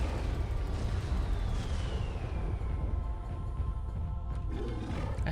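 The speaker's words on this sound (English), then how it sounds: "I thought I heard mortar strikes" Rumbling mortar strikes in the video game Turok 2: Seeds of Evil, a continuous low booming roar with distant blasts, heard alone without talk.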